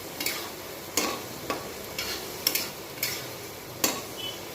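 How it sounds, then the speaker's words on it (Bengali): Water lily stems frying in a pan, with a steady soft sizzle broken by several sharp clicks and scrapes of a utensil stirring against the metal, close and moderately quiet. "তো দেখো শাপলা যেহেতু একটু জল ছেড়েছে, তো ভালো করে আমি সুন্দর করে ভাজা ভাজা করে নেব"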